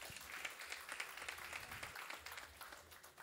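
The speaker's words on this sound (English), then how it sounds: "Round of applause for Timothy as well." Faint audience applause fills a hall at a pastor's 70th birthday and 40th wedding anniversary celebration, a soft continuous patter of many hands clapping with no clear peaks.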